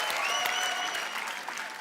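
Studio audience applause on a Hindi television comedy show, rising after a live Sufi folk song; dense, loud, steady clapping with crowd noise filling the whole stretch, fading slightly at the end.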